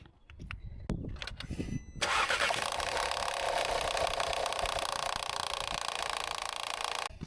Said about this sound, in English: we've got a bit of a rattling noise from the engine area